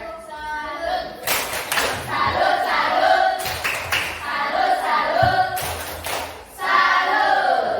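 A school class gives a rhythmic group clap for presenting student groups, with sharp bursts of clapping in a patterned beat mixed with children's chanting voices.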